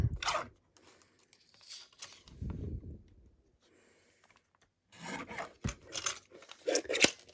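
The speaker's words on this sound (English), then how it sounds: "And then let's just trim this part off." Scissors trimming a piece off a paper gate-fold greeting card, giving a few separate crisp snips and paper rustles with quiet gaps between them, close and without voices.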